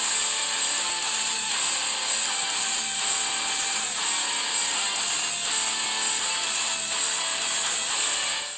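A ratchet wrench tightens the axle castle nut on a Can-Am Maverick 1000R, making a continuous rapid clicking close by for several seconds, alone with no talk.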